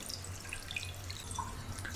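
Water runs at the Glen Turret whisky distillery, a steady, continuous rushing flow heard fairly close with no pauses and no one talking.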